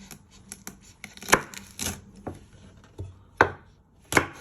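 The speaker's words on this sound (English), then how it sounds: "Then bring them back together and you just want to chop them." A knife chops food on a cutting board for Thai-style chicken and ribs, giving irregular sharp knocks, some loud and some soft, spaced across a quiet kitchen.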